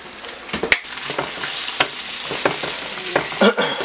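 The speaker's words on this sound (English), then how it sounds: "Oh yeah, I'm mixing it good." Food frying in a pan while being stirred and mixed, with a steady close sizzle broken by repeated scraping and clacking strokes of the utensil against the pan.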